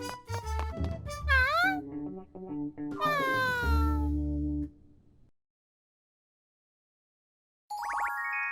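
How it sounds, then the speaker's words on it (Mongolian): A cat meows in several drawn-out, rising and falling calls, loud and close, then goes quiet before one last bright, synthetic-sounding meow. "Муур аяган билүү?"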